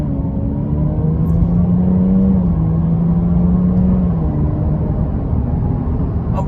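A 2017 Jaguar XE 35t R-Sport accelerates at highway speed, its engine note droning and rising steadily from inside the cabin under road rumble and a low whir, with no talk.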